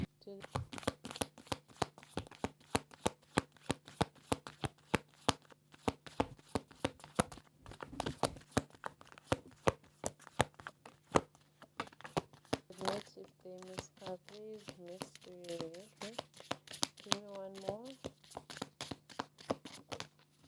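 Tarot cards are shuffled close up in a rapid, continuous run of crisp riffling snaps and flicks, while a voice hums or speaks softly in the background.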